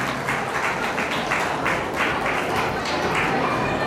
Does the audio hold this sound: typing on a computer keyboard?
no